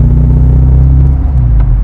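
A 1300cc Morris Mini Mk3 engine rumbles loud and close as the small car speeds up, a dense, steady growl with faint clattering on top and no speech.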